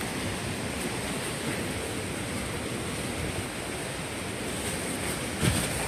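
Strong wind roars against the microphone over crashing sea waves during a storm, a dense, continuous wash of noise with one brief bump near the end.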